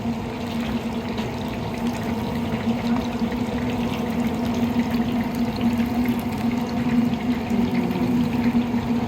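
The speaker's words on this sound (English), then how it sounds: "Get them in the fryer." Seasoned catfish fry in a deep fryer with a loud, continuous bubbling sizzle that holds steady throughout, with no voices.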